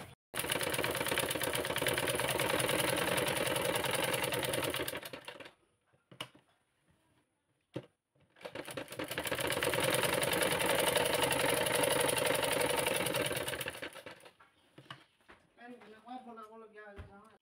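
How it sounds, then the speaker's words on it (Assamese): A sewing machine stitches blouse fabric along a marked line in two long, steady, rapid mechanical runs separated by a quiet pause, with a few clicks between them and a voice speaking at the end. "এতিয়া এই আঁচডালৰ ওপৰতে চিলনিটো চিলাই দিম"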